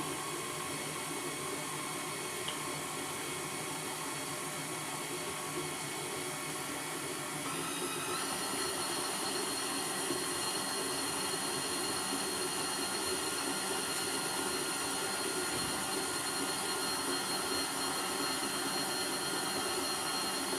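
A KitchenAid 5-quart Artisan stand mixer with a glass bowl runs steadily with its paddle, giving a continuous close motor whir and hum that holds for the whole stretch without any voices.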